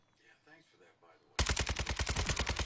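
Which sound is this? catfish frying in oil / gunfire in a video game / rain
gunfire in a video game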